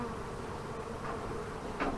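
A swarm of honey bees buzzes around an old hive, a dense, continuous drone of many insects close by, with one louder bee passing near the end.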